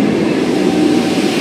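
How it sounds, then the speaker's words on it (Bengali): A train rumbles loud and close at Khardah railway station in a brief, continuous roar with no voices. "চলে এসেছি খড়দা স্টেশন। এখান থেকে আমাদের ট্রেন ধরতে হবে।"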